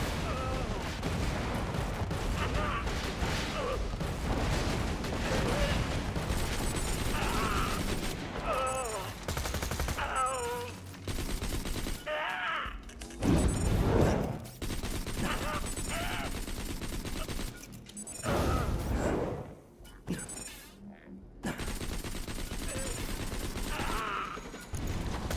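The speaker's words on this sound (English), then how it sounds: "Tossing a masher! Grenade out!" Dense gunfire and a grenade blast in the Borderlands shooter roll on almost without pause, loud and layered with mechanical clatter, and a voice talks briefly amid the fighting.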